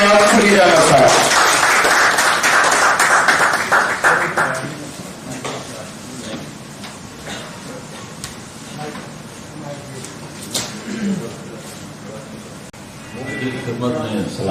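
Audience applause rises to welcome a speaker to the stage at a gathering about writer Ashfaq Ahmed, loud and dense for several seconds before fading under a voice beginning to talk.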